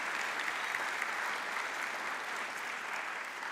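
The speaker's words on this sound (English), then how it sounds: "So big round of applause for our sponsors" A crowd at an employer summit gives a steady round of applause for the event's sponsors, a dense, even patter of many hands that lasts the whole stretch without a break.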